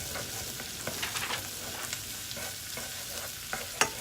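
Onions and fresh ginger root frying in a pan, a quiet steady sizzle with soft clicks and scrapes as they are stirred, close by and without talk.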